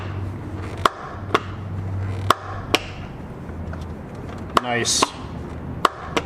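Handwheel pop clutch on a late-run Janome Kenmore 385 sewing machine, giving a series of sharp, close plastic-and-metal clicks and pops spaced irregularly, with a short sliding rasp between them and a brief spoken remark.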